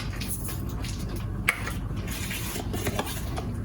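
Spoon stirring spice masala in a large bowl, close soft scraping and clinks repeating steadily with a couple of sharper taps, no voices.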